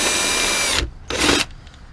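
A power drill bores a hole for mounting a light, a loud close whine that runs steadily, cuts out, revs briefly once more and then stops.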